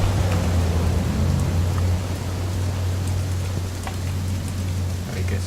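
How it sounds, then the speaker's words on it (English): Steady rain falls in the video game What Remains of Edith Finch, a constant even hiss of drops with a low droning hum beneath, continuous and without pauses. "It's gonna rain the whole weekend, isn't it?"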